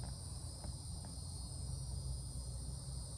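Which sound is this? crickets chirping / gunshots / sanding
crickets chirping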